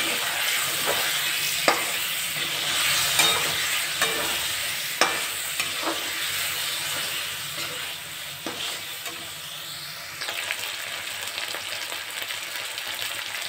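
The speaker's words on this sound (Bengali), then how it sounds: "মশলাটা দিয়ে ভালোভাবে কষতে হবে" Spices and mutton stir-fried in hot oil, a continuous sizzle broken by repeated scraping strokes of a spoon in the pan, close and steady with no voices.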